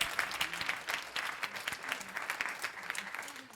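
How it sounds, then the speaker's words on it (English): Modest applause from a conference audience after a session, scattered clapping at moderate distance with faint voices mixed in beneath it. "Let's give one more round of applause to the prior session because it was amazing."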